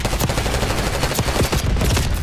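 Rapid automatic gunfire in Call of Duty: Black Ops 6 crackles in dense, continuous bursts, loud and close, with no pause across the short stretch.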